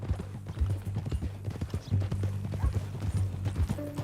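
Steady clip-clop of horse hooves on hard ground in the video game Red Dead Redemption 2, a brisk rhythmic gait close by, with a low steady rumble underneath and no talking.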